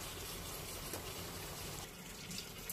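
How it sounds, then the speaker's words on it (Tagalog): Water pours steadily into a cooking pot while Egyptian stuffed pigeons are being prepared, a continuous close gushing fill with no talk. "Lagyan natin ng tubig guys."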